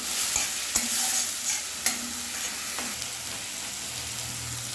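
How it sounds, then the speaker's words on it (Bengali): Spices for a fish curry of shol and foli fish fry in a pan over medium flame with a steady sizzle, broken by several distinct scraping stir strokes at a loose rhythm. "এবার মশলাগুলো এবার সব একসঙ্গে ভালোভাবে একটু কষিয়ে নেব।"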